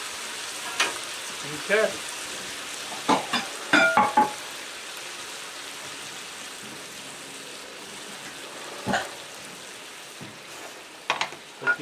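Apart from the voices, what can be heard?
sugar caramelizing and sizzling in a pan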